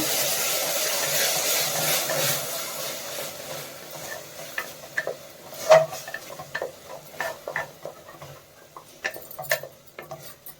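Ground mint paste frying in a pan for mint pulao, a soft steady sizzle joined by scattered scraping and stirring clicks that grow sharper and more frequent toward the end, with no voices.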